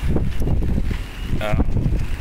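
Gusty wind from Hurricane Harvey roars steadily across the microphone outdoors near a boat, with a brief whistling tone and muffled background sounds beneath it.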